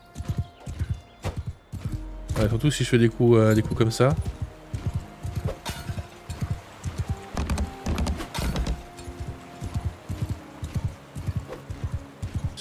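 Video game horse hooves clip-clopping in a steady trotting rhythm, with a neigh and a whoosh of sword swings partway through, while someone talks over the action.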